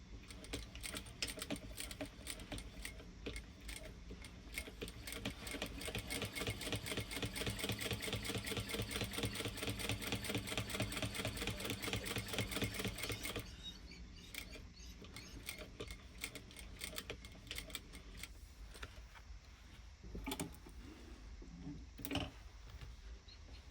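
Sewing machine top stitching a fabric wallet, a rapid steady mechanical clatter that runs continuously for about half the time, then breaks into shorter, stop-start bursts.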